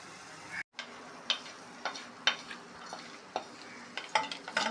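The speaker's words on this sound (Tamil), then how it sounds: "பச்சை மிளகா பூண்டெல்லாம் நல்லா வதங்கிடுச்சு." Green chilies and garlic fry in a pan for thecha, a soft steady sizzle close by, broken every half second or so by sharp scrapes and taps of a spoon stirring, with no talking.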